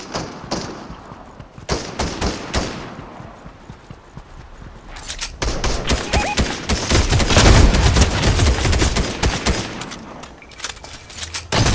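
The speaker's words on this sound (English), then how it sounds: "Taking shots from two different directions." Fortnite gunfire comes from two directions: sharp, rapid shots in scattered bursts, then a dense, loud barrage mid-clip that tapers off before one more shot at the end.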